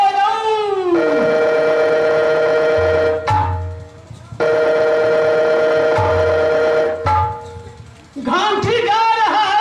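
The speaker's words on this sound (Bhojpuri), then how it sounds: "घंटी जा रहा है, महाराज नहीं उठा रहा है" An outgoing phone call rings without being answered, a loud tonal ringing that repeats in long bursts of about three seconds with short gaps between them.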